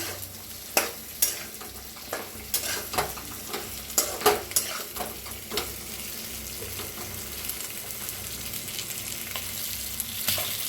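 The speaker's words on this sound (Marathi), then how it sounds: "आता चांगलं फिरवून घेऊया" Dabu chilies fry in a pan with a continuous sizzle, while a spoon scrapes and stirs, giving repeated clattering knocks that fade after a few seconds.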